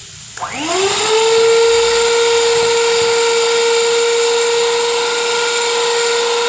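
Electric hand beater whirring steadily through cake batter flavored with pineapple and vanilla essences, starting up after a brief clatter and then running loud and continuous without pause, no talking over it.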